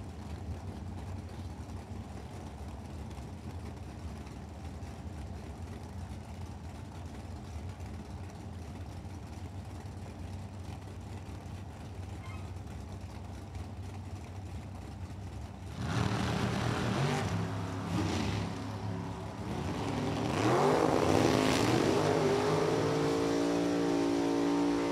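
Drag racing dragsters at Lucas Oil Raceway, with a long stretch of steady low engine rumble and idling, then a sudden louder roar as cars launch and accelerate hard, building into a loud, rising engine scream near the end.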